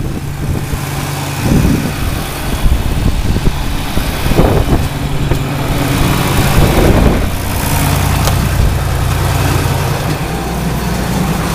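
A tractor engine runs steadily nearby, a continuous low rumbling idle with no voices.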